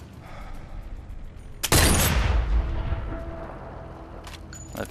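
A single loud, sharp gunshot from a sniper rifle in the VR game Sniper Elite VR cracks out suddenly, its booming report decaying slowly over a few seconds amid faint ambient game sounds.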